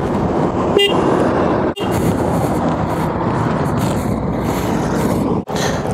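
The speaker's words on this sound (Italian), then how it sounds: "Suona il clacson." A car horn honks briefly, then again a few seconds later, over steady close traffic and engine noise near the Grimsel Pass.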